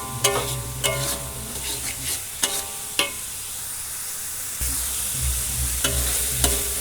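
Spring onion and celery stir-fried with spice paste for Padang-style fried noodles and rice, a steady close sizzle punctuated by sharp spatula taps against the pan at irregular intervals.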